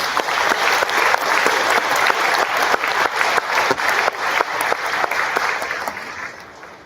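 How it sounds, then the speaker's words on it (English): An audience claps loudly and steadily at a middle school awards ceremony, with dense applause that slowly thins and fades toward the end. "let's everybody give a round of applause again for all of our award winners"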